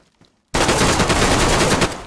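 Sustained automatic gunfire from the video game DayZ Standalone bursts in loud and close after a brief near-silent start, a dense rapid volley that continues without pause to the end.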